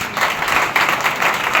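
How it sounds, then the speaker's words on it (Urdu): Congregation clapping hands together at a Thursday evening church healing meeting, a dense steady burst of many overlapping claps filling the hall with no break. "چلو پھر اپنے ہستے تالیاں مار لو"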